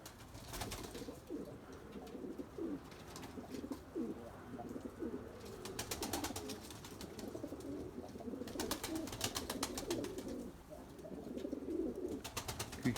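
Limoni breeding pigeons coo in low, repeated murmurs inside a loft, with bursts of wing flutter and scattered chirps breaking in over a steady background.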